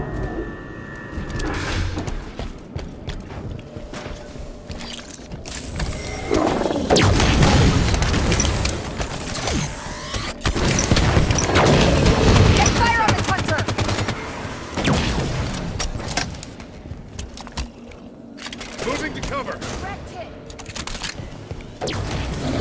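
Dense bursts of gunfire and heavy booms from a Halo 5 firefight against Hunters in a lab, with rapid automatic fire and explosions, loud and continuous, swelling in intense waves.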